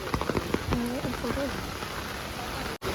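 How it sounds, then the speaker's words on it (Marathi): Steady rain patters continuously on old red-earth houses in Rajapur, Konkan, with a few voices and short sounds over it near the start. "पाऊस इतका लगातार आहे कंटिन्यू पाऊस आहे की पाऊस बिलकुल थांबलेला नाही आहे"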